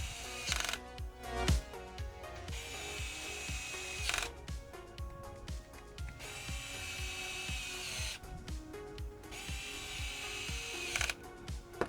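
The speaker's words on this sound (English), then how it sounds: "here you might want to turn your clutch setting a bit higher on your electric driver" An electric screwdriver drives screws into motor clamp holes on a robot kit, with several whirring bursts of rising motor pitch separated by short pauses, close and fairly quiet, alone without talk.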